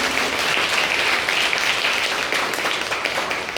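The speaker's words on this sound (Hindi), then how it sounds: "इसलिए आप लोगों के लिए तालियां बज सकती हैं।" An audience in a college hall gives the presenters of a World AIDS Day awareness program a loud, continuous burst of applause, dense clapping from a full crowd that holds steady for several seconds.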